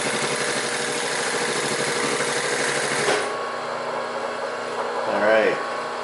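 A Singer 31-15 industrial sewing machine runs steadily through marine vinyl and denim with a loud, continuous motor whir, then stops abruptly partway through, leaving a quieter hum while a voice speaks briefly near the end.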